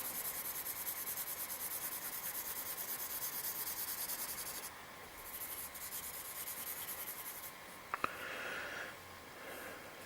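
A pencil shades in a drawing on paper with continuous soft rubbing strokes, close and faint, steady throughout with a brief tap near the end.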